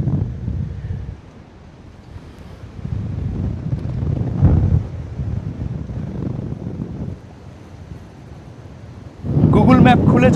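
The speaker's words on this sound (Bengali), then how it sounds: "কিন্তু এখানে এত প্রচণ্ড হাওয়া" Strong gusts buffet the microphone beside Pamban Bridge on the Rameswaram coast, where boats are moored, giving low, rumbling roars that swell and ease. Someone talks through the wind.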